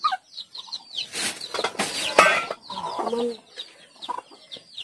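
A chicken clucks repeatedly nearby, with short bursts of wing flapping and rustling in between the calls.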